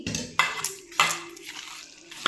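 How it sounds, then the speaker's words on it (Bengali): Chhana dough is kneaded by hand with water, giving soft wet squelches and a few sharper slaps in an uneven rhythm, close and moderately quiet. "এটা হাত দিয়ে একটু ভালো করে মেখে নিই"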